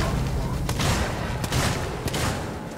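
Gunfire in the horror video game Alien: Isolation on hard difficulty, three sharp shots spaced about a second apart over a steady low rumble of in-game ambience.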